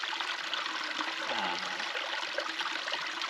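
Creek water flows steadily and continuously in a broad, even wash with no pauses, close by at a campsite in Tonto National Forest near Roosevelt Lake.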